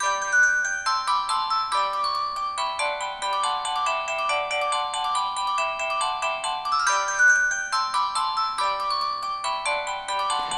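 A Russian dance ringtone plays from the built-in speaker of an Eten Glofiish X800 smartphone from 2007, a bright, busy synthesized melody with quick repeating notes running continuously.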